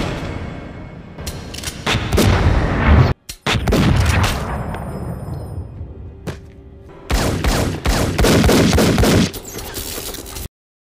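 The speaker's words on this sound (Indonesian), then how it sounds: "mendadak Smith muncul di hadapan Neo, melepaskan tembakan bertubi-tubi" Rapid gunfire from a Matrix film scene, with dense, loud bursts of shots broken by brief gaps and a quieter middle stretch before a final heavy volley, and no talking.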